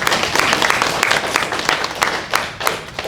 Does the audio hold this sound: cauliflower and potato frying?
no